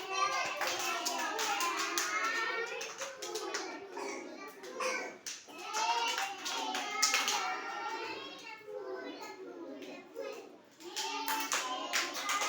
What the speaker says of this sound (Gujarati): લ્યો તાળીઓ પાડો.